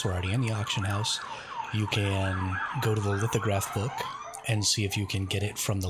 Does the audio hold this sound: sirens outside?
yes